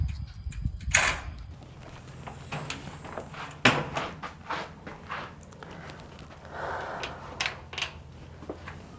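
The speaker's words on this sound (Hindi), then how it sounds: "तो ये हमने कर दिया अपना दरवाज़ा बंद।" A house door in an Australian home is pushed shut, with a sharp latch thud near the start followed by a few quieter knocks and shuffling sounds in a quiet room.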